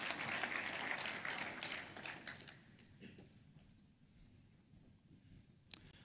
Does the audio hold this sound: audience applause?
yes